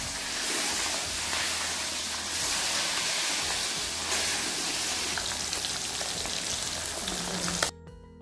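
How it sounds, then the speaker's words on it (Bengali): Batches of fish pieces frying in oil for a Bengali fish curry, a dense, steady sizzle like heavy rain that runs throughout and cuts off abruptly near the end. "এইভাবে অল্প অল্প করে মাছ দিয়ে সব মাছের টুকরোগুলো ভেজে তুলে নিতে হবে।"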